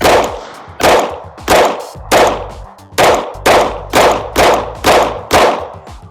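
A pistol fires ten rounds during a concealed carry qualification from the 10-yard line, loud, close, sharp reports spaced at an even, deliberate rhythm with brief gaps, and no talking.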